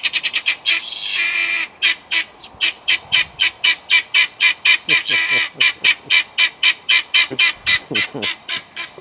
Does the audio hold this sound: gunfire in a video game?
no